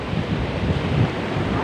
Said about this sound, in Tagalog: Taas ng alon.